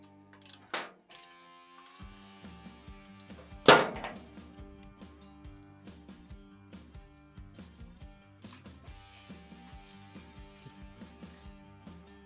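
Ratchet clicking in quick repeated bursts while snugging the front skid plate bolts on a 2004-2022 Harley-Davidson Sportster motorcycle, close and fairly quiet, with one louder metallic clank near the start.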